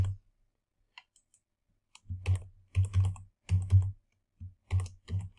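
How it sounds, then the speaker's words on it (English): Keys on a computer keyboard are typed in short bursts, with a couple of isolated taps before quick clusters of clicks, close and fairly quiet with no talking. "you start typing in your name that you want"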